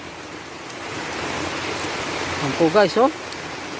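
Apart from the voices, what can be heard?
heavy rain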